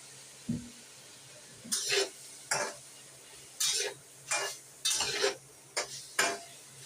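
Seafood stir-fry being stirred in a pan, with about ten separate scraping, clattering strokes of utensil against metal over a faint steady hiss, close and fairly quiet, no talking.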